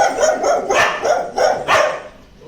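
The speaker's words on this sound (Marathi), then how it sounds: "राणी कुत्री आहे" A year-and-a-half-old female dog on a village farm gives a quick run of four or five sharp, close barks, loud and evenly spaced, with no talk over them.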